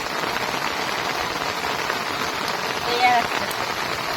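Heavy rain pours steadily in a dense, loud hiss over a Sundarban fishing area on a wet day, with a faint voice nearly buried under the downpour.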